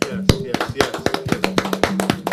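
Audience clapping at a live community celebration show, scattered uneven claps and taps mixed with voices talking and calling out nearby.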